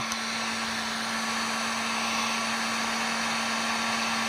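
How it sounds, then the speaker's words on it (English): A basic Harbor Freight heat gun blows hot air in a steady, loud, unbroken whoosh with a constant motor hum running through all four seconds. "So what we're going to do is use this heat gun."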